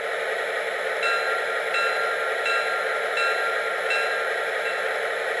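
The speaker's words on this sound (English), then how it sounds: "That's the bell." A small bell on an MTH SW-1 model train dings in a steady repeating rhythm, about five strikes over a constant rushing background hiss.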